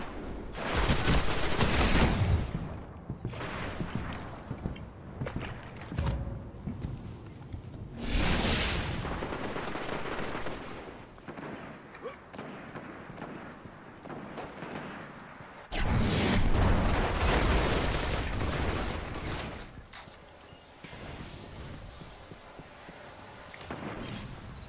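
Gunfire in a team video game, with loud bursts of rapid shots and booming blasts separated by quieter stretches of softer shooting and rumble.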